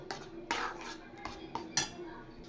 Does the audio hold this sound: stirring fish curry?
yes